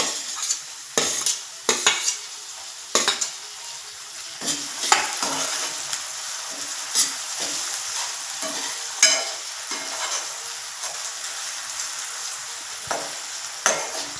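Onion and tomato fry in a pan for egg masala, a steady close sizzle broken by repeated sharp spoon scrapes and taps against the pan, with no talk.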